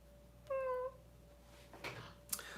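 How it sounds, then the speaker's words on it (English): A single drawn-out cat meow, high and tonal, followed by soft rustling and a brief sharp click, fairly faint against a quiet background. "I've heard Batman, I've heard a cat. Meow, meow"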